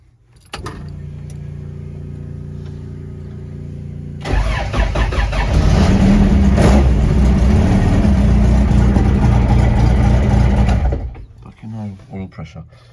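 A car engine, apparently left standing for a while, cranks and catches, then runs and revs loudly for several seconds before cutting off, with someone talking quietly before and after.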